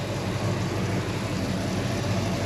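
A 1968 AMC AMX with a 390 V8 engine idles steadily, a dense, even rumble with no breaks and no talking.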